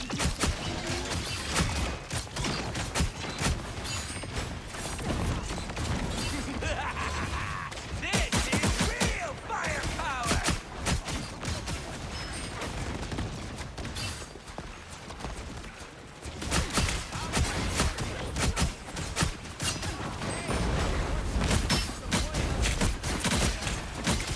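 Rapid gunfire in Marvel Rivals during a Psylocke match, a dense, loud stream of shots mixed with mechanical clatter and impacts that continues almost without a break throughout.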